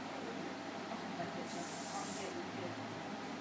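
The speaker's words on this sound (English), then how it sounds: "we can just hairspray. So using it quite far away." A short burst of hairspray hisses from a can held well away from the hair, a soft steady spray lasting under a second amid quiet room noise.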